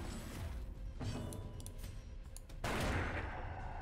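A pistol shot in the video game Darkest Dungeon: sharp, loud broadband cracks over dense, continuous game audio, the biggest jolt landing late in the clip.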